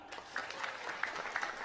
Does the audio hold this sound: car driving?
no